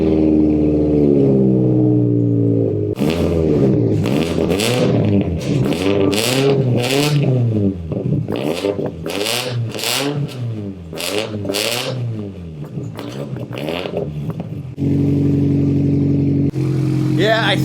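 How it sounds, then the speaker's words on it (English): A modified 500 WHP FRS engine starts from idle, then gives a long series of sharp rev blips rising and falling in quick succession before settling back to a steady idle. Revs are held down by a limp mode capping around 4,000 RPM. "Let's go ahead and start her up."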